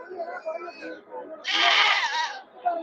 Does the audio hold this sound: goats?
yes